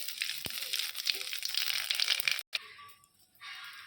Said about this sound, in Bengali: কালির জিরা ফোড়ন দিচ্ছি খয়রা মাছটায়